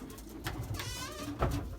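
Belgian racing pigeons cooing softly in a loft, with low murmuring coos and a brief louder burst near the end over a steady background hum.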